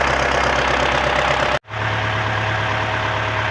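An MTZ tractor engine runs steadily close by at a loud, even idle, briefly cutting out before resuming its continuous drone.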